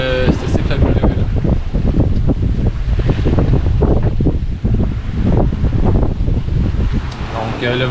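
A sailboat on the Saint Lawrence River is pushed by an east wind, which roars steadily across the microphone along with water rushing against the hull, loud and continuous throughout.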